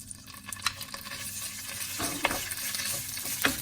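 Green curry paste sautés in hot oil, a soft close sizzle with scattered spatula scrapes and taps as it is stirred around the pan.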